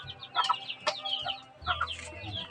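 Several chickens cluck and chatter close by, overlapping calls with a low rumble underneath, no talking.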